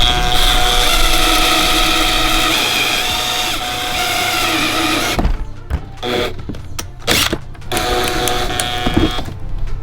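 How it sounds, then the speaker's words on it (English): A power drill grinds steadily to bore out the plastic welds holding the inner door card on a BMW F-chassis door, a loud continuous whine that breaks into short stuttering bursts near the end. "you're basically drilling 4 points that are basically plastic welded onto the door card itself"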